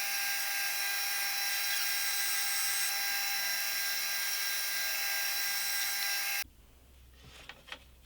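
A homemade drum sander takes a thin pass off a wooden board, a loud steady high-pitched whine lasting about six seconds before cutting off to quiet room noise with a few light knocks.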